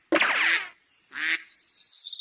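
Cartoon goose honking, two loud nasal honks with a pause between them, the second trailing into a thin high sustained squawk.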